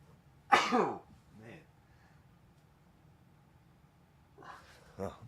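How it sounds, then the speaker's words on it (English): A person sneezes with a sharp, loud burst near the start, during a live pre-market trading show, followed later by a couple of softer throat sounds or sniffs; no speech accompanies it. "I think I have to sneeze."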